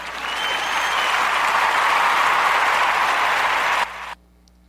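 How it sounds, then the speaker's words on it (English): A studio audience on an episode of The Narrative Podcast breaks into a full, dense round of applause that holds steady for nearly four seconds, then cuts off abruptly, leaving near silence. "we got to give her a Narrative Podcast round of applause"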